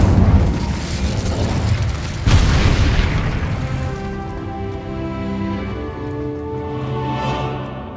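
A fiery Incendio spell blast in Hogwarts Legacy bursts out as a loud whooshing boom at the start, then a second surge, before settling into sustained game tones and rumble.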